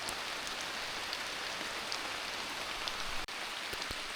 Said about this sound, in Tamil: நல்லாவே மழை பெய்யுது.